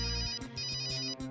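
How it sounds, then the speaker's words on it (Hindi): A telephone ringtone plays loud and clear, a repeating electronic melody with short regular pulses, heard alone on a Hindi TV serial set. "फोन बज रहा है"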